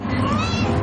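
Pregnant cat close to giving birth gives a single brief meow, fairly loud and nearby, with nothing else around it.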